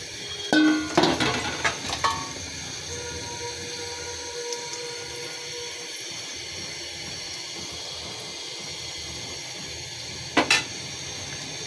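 Egg and capsicum drop into hot oil with a brief burst of clatter and sizzle, then a quieter steady frying hiss, with another short clank of a pan near the end.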